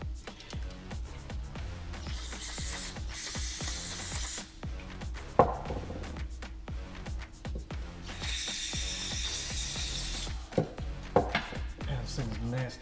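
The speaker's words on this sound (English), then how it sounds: "I need to spray that out a little more." Carburetor cleaner sprayed from an aerosol can into the float bowl of a Honda 250 Fourtrax carb during a rebuild, with two long hissing bursts amid tool clicks, rubbing and handling noises up close.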